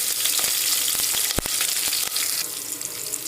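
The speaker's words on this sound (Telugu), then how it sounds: "వేసి ఆనియన్ కొంచెం ఫ్రై అయ్యేంత వరకు వెయిట్ చేయాలి" Onion and green chilies frying in oil for hotel-style chicken dum biryani produce a loud, continuous crackling sizzle close up, with a few brief knocks and one sharp clank from the pan partway through.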